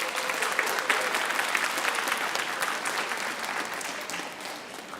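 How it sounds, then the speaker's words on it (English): An audience at Vietnamese American Heritage Night on the Millennium Stage gives a sustained round of applause, a dense, even clapping that holds strong for about five seconds and eases slightly at the end. "please give them a round of applause"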